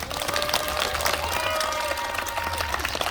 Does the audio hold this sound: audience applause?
yes